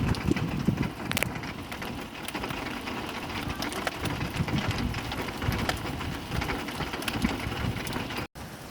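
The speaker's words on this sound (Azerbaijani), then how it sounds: "Baxın görün necə yağır" Steady rain pours down close by as a dense, continuous hiss with scattered patters, holding at an even level throughout and cutting out for a split second near the end.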